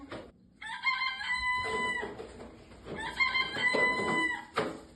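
A rooster crows twice in a row, loud and close, each crow a long drawn-out call with a short pause between.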